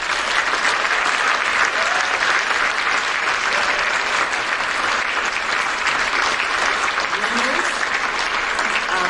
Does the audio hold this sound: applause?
yes